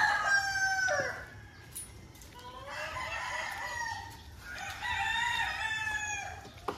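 Several gamefowl roosters at a game farm on Mount Banahaw crow in turn, long rising-and-falling calls overlapping one another, fairly close and loud against a quiet rural background.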